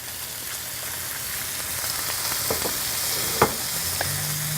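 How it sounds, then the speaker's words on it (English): Beef sizzles and crackles steadily in a hot skillet, with occasional pops and scrapes of stirring, close and continuous. "You can hear the sizzle of the beef."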